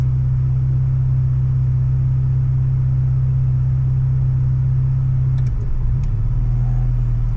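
A car engine idles during street tuning, a loud, steady low rumble held close and unbroken, with a brief dip and shift in tone near the end as the idle is adjusted.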